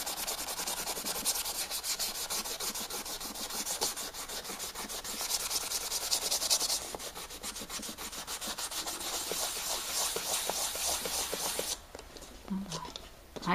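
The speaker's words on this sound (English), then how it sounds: "And I'm going to take off with this little scrubber." A small scrubber rubbing paint off a black painted surface on a Zentangle art piece, a close, continuous dry scratchy rasping that pauses briefly near the end.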